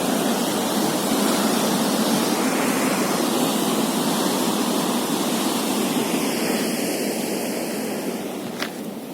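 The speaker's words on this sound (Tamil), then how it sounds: "பார்த்தீங்கன்னா தெரியும், தண்ணி திறந்து விட்டுருக்காங்க." Rushing water pours out through an opened sluice gate, a loud, steady roar of water that continues throughout with no voices.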